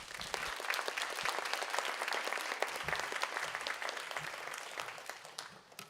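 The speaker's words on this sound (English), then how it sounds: "let's do a round of applause, standing ovation to our amazing speakers" A conference audience applauds its keynote speakers at a nursing leaders' annual meeting, a steady, dense wash of many hands clapping that holds evenly for several seconds before thinning at the end.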